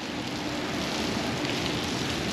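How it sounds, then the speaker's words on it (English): Rain and wind from a tropical storm in Charlotte, North Carolina form a dense, steady outdoor wash of noise, loud and unbroken, with no voices. "it is nasty, it is windy, it is rainy"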